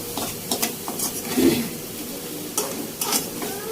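Nearly cooked leafy greens tipped into hot oil in a pan and stirred, a steady close sizzle with scraping stir strokes repeating through the clip and no talking.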